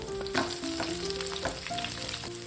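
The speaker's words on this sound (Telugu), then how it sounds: "తర్వాత కరివేపాకు వేసుకొని కొంచెం ఫ్రై కానివ్వాలి" Green chillies and curry leaves fry in oil in a pan for a biryani gravy, giving a steady close sizzle broken by scraping stirs, with no voices.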